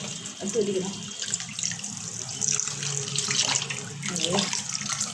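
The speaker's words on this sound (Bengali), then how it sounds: "রূপচাঁদা মাছ কেটে ধুয়ে নিচ্ছি, ফ্রাই করা হবে তাই" Tap water runs steadily and close over freshly cut pomfret fish in a sink, with splashing and flowing sounds that vary as the fish is handled and rinsed.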